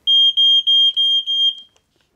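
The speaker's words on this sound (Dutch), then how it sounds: "het hebben van een rookmelder alleen niet voldoende is. Hij moet ook werken. Dus dat wordt tegenwoordig getest." A smoke detector under test sounds a loud, shrill electronic beep in five long pulses with short gaps, then stops, close and alone.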